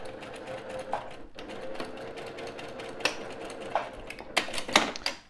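A sewing machine stitches appliqués onto a fabric pouch with a quiet, rapid mechanical whir. Short bursts and brief pauses are broken by sharper clicks near the end.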